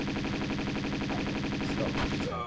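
Rapid automatic gunfire from the video game Tomb Raider 2 at Barkhang Monastery, a dense, continuous rattle of evenly spaced shots that stays loud and close throughout.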